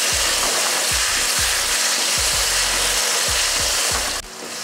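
Onion, garlic and tomatoes sautéing in oil in a pan, a loud continuous sizzle close up with repeated scraping strokes of a spatula against the pan.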